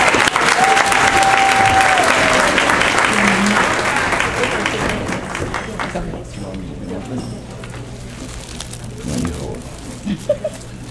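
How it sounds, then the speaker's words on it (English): A crowd at a cotillion and beautilion event applauds scholarship seniors, loud sustained clapping that gradually thins and fades, with a voice heard over the start. "Please clap your hands for them as they come."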